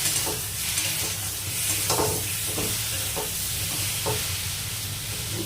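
Egg curry masala with tomatoes and Kashmiri chili powder fries in a pan with a steady, close sizzle, broken by periodic soft scrapes of a spoon stirring. No voices are heard.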